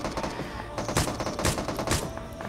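Rapid bursts of gunfire ring out in a battle royale video game, several sharp volleys and single shots stacking quickly in a busy exchange with no talk.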